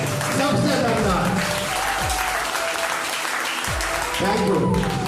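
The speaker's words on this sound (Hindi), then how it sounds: "उन सभी के लिए एक बार अभी तक के सबसे दमदार ताली होनी चाहिए, सबसे दमदार।" A large audience gives loud, sustained applause for returning Disha trainees, dense clapping that fills the whole stretch, with a voice briefly audible underneath.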